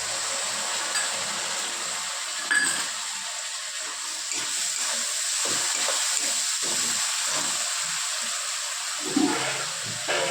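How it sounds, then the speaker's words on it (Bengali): Water splashes and runs while a spice bowl is rinsed in a home kitchen during fish-head curry cooking, a steady close hiss of flowing water with a few sharper splashes and clinks. "দেখো বাটিটা ধুয়ে জল দিচ্ছি, মশলার বাটিটা।"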